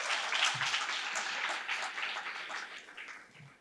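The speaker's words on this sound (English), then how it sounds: "let's give a round of applause to that amazing MC" Audience applause at an ocean research and innovation forum, rising from a conference crowd: a steady wash of many hands clapping, moderately distant, slowly fading toward the end, with no talk.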